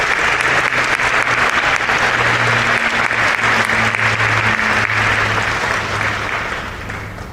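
Loud, dense applause from an induction-ceremony audience for the student technology team, a steady wash of many hands clapping that holds evenly and then tapers slightly at the close, with a faint low hum underneath.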